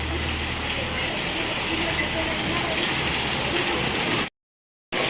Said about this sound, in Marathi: भरपूर पाऊस सुरू झालेलं आहे बघू शकता तुम्ही